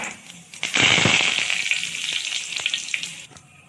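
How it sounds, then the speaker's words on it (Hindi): Cumin seeds and curry leaves hit hot oil in a pan while making Pindi chole, bursting into a loud, close, steady sizzle with crackles that slowly eases off, no voices. "फिर उसमें जीरा डालेंगे, उसके बाद कड़ी पत्ता,"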